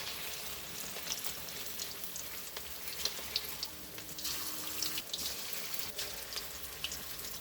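Pakoras sizzling in hot oil, a steady close crackle and spatter with scattered sharp pops, continuous and without talking.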